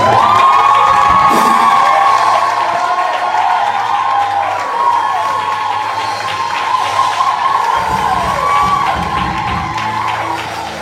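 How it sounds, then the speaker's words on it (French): A large crowd at an open-air Christian church gathering cheers, shouts and whoops for Jesus in one loud sustained roar that stays strong throughout, with high excited voices rising over the mass of noise. "que tu peux faire du bruit pour Jésus ici?"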